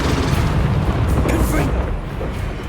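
Confringo fire spell blasting in Hogwarts Legacy: a loud, dense burst of explosive rumble and crackle spreading through the clip, with game voices over it.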